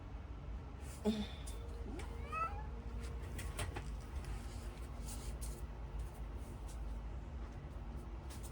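A cat meows a few times early on, fairly faint against a low background rumble, followed by scattered clicks and thin noises.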